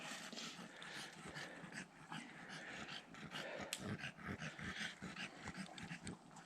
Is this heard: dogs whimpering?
yes